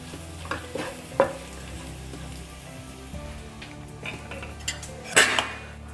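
Spices frying in a pan over a low gas flame while a paneer sabzi is made, a soft steady sizzle with occasional scraping stirs and light clinks; no one speaks.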